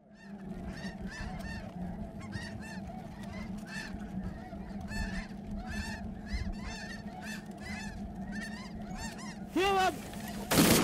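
Dense chorus of snow geese honking continuously over rotary decoys during a hunt, many overlapping calls close and loud, with a steady low hum beneath and a sharp burst near the end.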